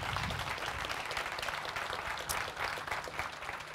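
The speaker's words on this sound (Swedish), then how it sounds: "Det är värt en applåd." Applause from the audience at a Swedish parasport gala, dense continuous clapping heard somewhat faintly and at a distance, without speech over it.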